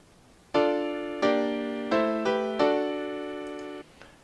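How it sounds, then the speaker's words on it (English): Cadenza in D Dorian on a keyboard: five sustained chords struck one after another, the last held and fading. Close, with no talk over it. "A cadenza in D Dorian would sound like this."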